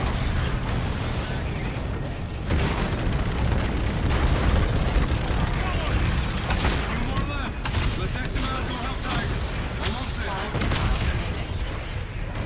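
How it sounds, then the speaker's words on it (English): Guided missiles fire and explode in Call of Duty: Infinite Warfare, a dense string of loud booms and blasts rolling through the whole stretch, with a player talking over parts of it. "it's just guided missiles"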